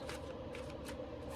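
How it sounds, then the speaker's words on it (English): Soft, papery riffling of tarot cards being shuffled, a quick textured rustle with a few brisk flicks, faint and close. "My card shuffles are like really chaotic."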